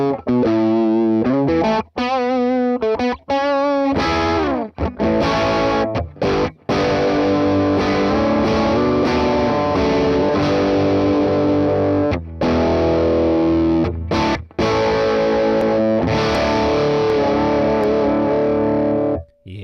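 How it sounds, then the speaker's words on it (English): Electric guitar through a Neural DSP Morgan amp plugin set to a Vox-style tone, loud and heavily driven, with sustained distorted chords and quick riffs played continuously with a few brief pauses. "So the Vox sound, obviously really easy to get a ton of juice out of it."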